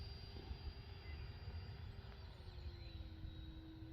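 Freewing Eurofighter Typhoon RC jet with an FMS 90mm 1900kv electric ducted fan, flying a landing approach with canards and vector thrust; a steady whine holds throughout, faint and distant over low background rumble.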